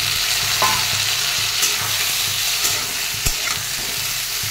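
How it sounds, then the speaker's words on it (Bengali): Boiled potatoes frying with onions in a pan for a khadi aloo posto dish, steady close sizzling with occasional clinks and scrapes of stirring, no voices. "এবারে এটার মধ্যে আমি দিয়ে দেবো সিদ্ধ করা আলু।"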